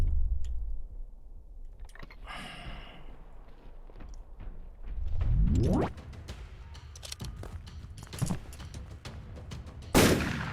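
Scattered gunshots ring out in Skinwalker Hunt, set in Chernobyl: several sharp single cracks spaced apart, with a loud final shot, amid faint clicks and a quiet background.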